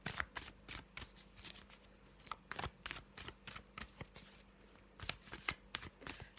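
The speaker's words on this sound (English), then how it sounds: "So I'm just going to shuffle up this black and white Faulkner deck as usual." A black and white Faulkner tarot deck is shuffled close up and quietly, in repeated soft riffling bursts and papery snaps that come in an uneven rhythm with brief pauses between them.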